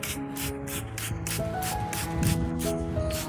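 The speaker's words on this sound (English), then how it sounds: "Spraying also helps wash away some of these pests physically, especially if you spray both the upper and lower surfaces of the leaves" A spray bottle misting orchid leaves, a run of about ten short, evenly spaced hissing spritzes heard close, over soft background music.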